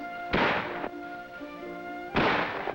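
Two loud, sharp rifle shots on a military shooting range during basic marksmanship training, each a sudden blast with a short ringing tail, spaced about two seconds apart.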